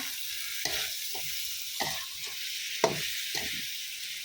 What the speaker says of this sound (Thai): เสร็จแล้วเราก็ผัดคลุกเคล้าให้เข้ากันนะคะ